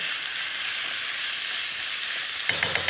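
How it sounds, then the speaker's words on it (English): Red duck curry with palm sugar sizzles and hisses steadily in a hot pan while it is stirred, and a few soft scraping clicks come near the end. "Give that a good stir."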